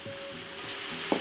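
Soaked long grain brown rice and drained chickpeas sizzle softly in a pot as they are stirred, a faint, steady frying hiss with a brief scrape near the end.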